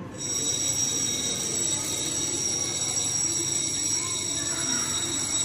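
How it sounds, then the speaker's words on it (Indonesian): A factory fire alarm rings continuously during a fire drill simulation, a steady high-pitched electric bell over a busy background rumble, loud and unbroken. "manajer pabrik membunyikan alarm kebakaran"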